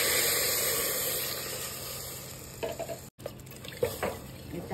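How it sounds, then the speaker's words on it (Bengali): Water poured into a pot for Bengali-style chicken soup, a steady, soft rushing flow that breaks off briefly, then resumes with splashes and drips. "জল দিয়ে দিচ্ছি পরিমাণ মতো।"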